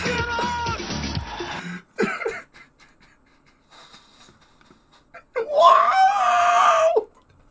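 A public figure screams loudly on stage at a live event: a raw, sustained yell near the end follows shorter shouted bursts and talk.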